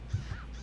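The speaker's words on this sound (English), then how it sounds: "Or a bunch of crows, rather." Crows in a fantasy role-playing game give a couple of quick, close caws in a very brief burst over a low background hum.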